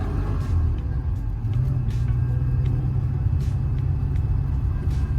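Morris Mini Rover engine pulling in first gear, a steady low drone with rumbling road noise from inside the cabin, interrupted by faint ticks and clicks, with no talking over it.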